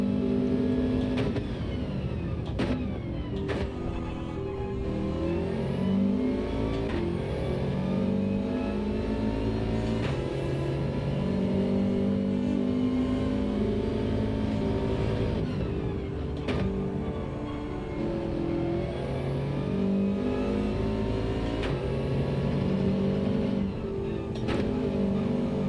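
A Subaru WRX engine revs hard during a race, its note climbing and dropping with each gear change in a continuous, moderately loud drone heard from inside the car.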